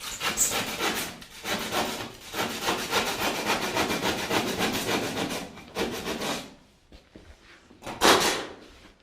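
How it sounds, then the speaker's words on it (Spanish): A handsaw cuts through Aquapanel Knauf cement board in quick, rhythmic rasping strokes for about six seconds, pauses, then gives one more short burst of sawing, close and alone. "primero le pasamos el serrucho en un lado y luego le podemos pasar el cúter abajo"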